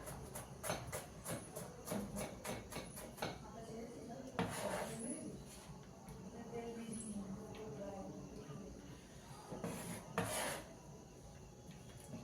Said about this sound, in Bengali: পেঁয়াজ কাটা হয়ে গেল